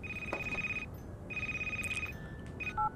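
A phone ringtone in the Christmas horror video game Crimson Snow, sounding as a repeated electronic ring in bursts with short pauses, followed by two brief higher tones near the end, heard alone.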